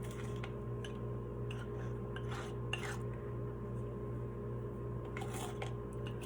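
Metal measuring teaspoons clink and rattle lightly in a kitchen, several faint scattered taps over a steady background hum, no talking.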